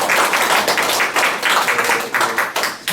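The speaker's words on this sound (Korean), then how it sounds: "박수로 고백하겠습니다" A church congregation bursts into dense, sustained applause during a worship service, many hands clapping together loudly and continuously throughout.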